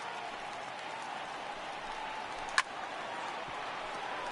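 A baseball crowd of about 30,000 at a Washington Nationals at Philadelphia Phillies game gives off a steady, distant roar, fairly faint throughout, with one sharp click midway.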